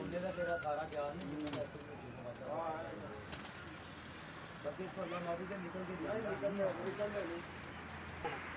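Pigeons on a rooftop coo in soft repeated rolling phrases close by, with faint thuds in between and a steady low background.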